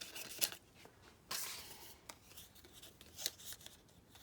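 Scissors cutting paper pieces for a rooster collage, a close, quiet series of snips and paper rustles with a few sharper crisp cuts.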